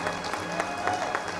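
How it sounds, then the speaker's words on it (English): An audience at a celebrity event applauds, a dense, steady wash of clapping that carries through the short moment without pause. "Let's hear a big round of applause here."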